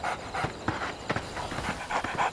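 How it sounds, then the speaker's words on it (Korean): A dog out on a walk with its owner pants quickly and rhythmically close by, short breathy huffs in a steady run of repeated bursts, with no speech over it. "오랜만에 주인과 단둘이 산책을 나온 개"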